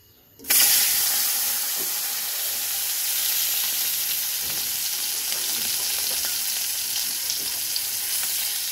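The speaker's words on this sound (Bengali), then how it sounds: "এখন আমি মাছটাকে ভাজবো। মাছটাকে আমি রান্না করব সরিষা তেলে।" Tengra fish dropped into hot mustard oil in a wok, bursting into a loud, steady sizzle that holds evenly with faint scattered pops and no talking.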